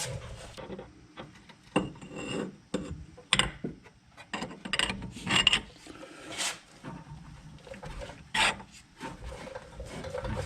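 Wrench work tightening a bolt on the brake assembly of a 2006 Nissan Altima, heard as close, irregular ratcheting clicks and metallic rasps in uneven bursts, with no talking.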